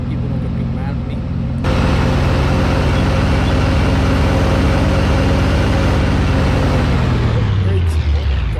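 A 1970s Chevy truck in Farming Simulator 25 kicks into a loud, steady engine drone that rumbles on, then winds down with a falling pitch near the end.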